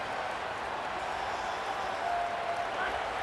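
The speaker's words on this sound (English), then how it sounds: "This crowd bringing an ear-splitting welcome to their visitors." A stadium crowd cheers in College Football 27, a steady, broad roar of massed voices that holds evenly without pause and may sit under faint commentary.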